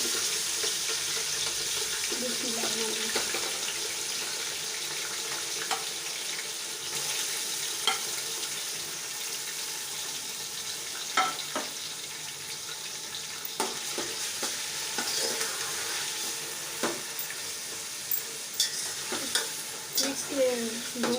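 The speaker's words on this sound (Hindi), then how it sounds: "इसके 2 मिनट मतलब इसको भूनना है" Chicken with ginger and garlic frying in a hot pan, a steady loud sizzle throughout with scraping stirs and occasional clinks of the spoon.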